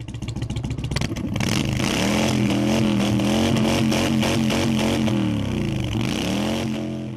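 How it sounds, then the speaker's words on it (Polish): A parade of motorcycles rides through a town, engines roaring and revving loudly at close range, several machines overlapping in a dense continuous rumble that swells after a brief start. "by stąd wyruszyć w miasto, paradą ryczących jednośladów"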